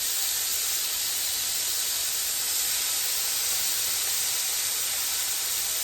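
Shrimp browning in a hot pan over fairly high heat, giving a steady, even sizzle and hiss throughout with no talking.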